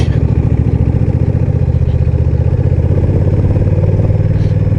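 A Honda Rebel CMX 1100 Touring DCT cruiser engine running close by, a loud steady rhythmic thrum with a slight clattering knock pulsing through it.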